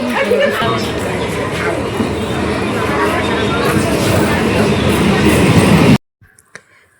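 Rumbling, rattling ride inside a moving passenger train, a loud continuous roar with background chatter of people on board, which stops abruptly near the end, leaving a near-quiet carriage with a few small knocks.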